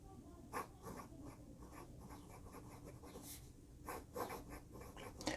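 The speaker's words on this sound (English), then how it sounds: "we'll do a quick writing sample here for you guys" A Wing Sung 626 fountain pen with a smooth nib writes on paper, giving a faint, soft scratching with occasional louder strokes, close and quiet with no talking.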